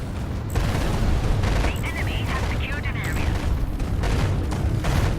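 Flagship flat cannon firing in the space combat game Fractured Space, a dense barrage of booming blasts and crackling explosions with rapid repeated shots, mixed with other battle noise throughout.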